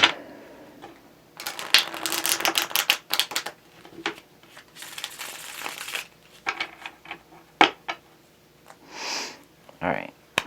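Tarot cards are shuffled in quick riffling bursts, close up, with pauses between rounds, a couple of sniffs and brief rustling handling noises.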